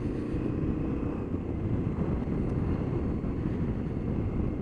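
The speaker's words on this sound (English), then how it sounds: "It's a very throaty engine it's got, typical KTM roar to it." Loud, steady engine roar of a 2018 KTM 1290 Super Adventure R motorcycle while riding at about 30 mph, a continuous low throaty drone mixed with wind rush, no talk.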